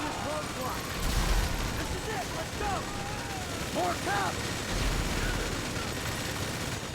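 Sustained bursts of minigun fire in GTA 5 rattle alongside other gunfire during a first-person bank heist shootout against SWAT units, continuous and dense with brief swells, with a voice talking over it.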